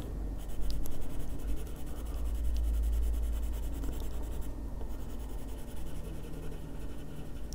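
Colored pencil blended steadily across textured paper, a continuous close, dry scratching and rubbing of the pencil point with short strokes, alone without talk.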